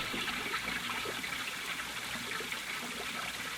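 Water trickles and splashes softly into a stone fountain basin, a steady, close, bright babble with no voices, set in a radio drama scene.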